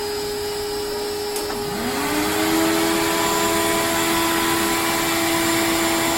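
A shop vacuum running beside an Inventables CNC machine during a cut, a loud steady whine with a rising hum as the motor spins up, continuous throughout with no talk.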